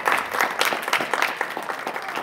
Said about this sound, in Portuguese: Aplauda Ele nessa noite.